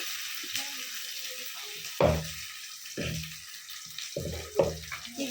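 Masala gravy for fish curry fries in a pan with a steady close sizzle. A few louder bursts mark it being stirred, and no one talks.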